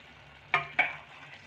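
Carrot halwa simmering with milk in an open pan, two quick stirring scrapes standing out over a low steady bubbling sizzle, close and fairly quiet.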